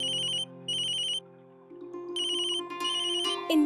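An electronic phone ringtone plays in short repeated bursts of bright tones, then shifts into a melodic jingle, loud and close.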